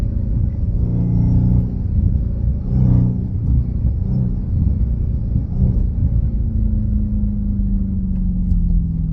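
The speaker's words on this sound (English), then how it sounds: "you can hear this downshift whine" A Dodge Challenger Hellcat's supercharged engine with an upgraded intake rumbles loudly up close, with a rising supercharger whine layered over the drone as the revs change on downshifts.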